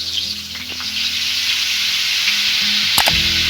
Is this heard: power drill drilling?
no